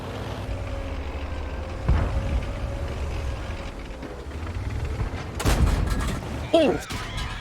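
Tank cannons firing explosive shells in a World of Tanks battle: heavy booming blasts, one near the two-second mark and a louder burst toward the end, over a constant engine and battlefield rumble.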